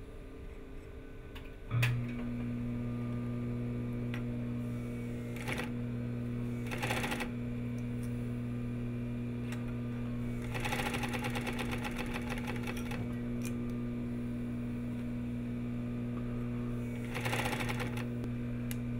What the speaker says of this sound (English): I'm going to sew center front together at 1/2 inch and sew all the way down till I meet up with the stitch that was on the rise.